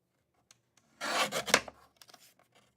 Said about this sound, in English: My trimmer did not cut very well there.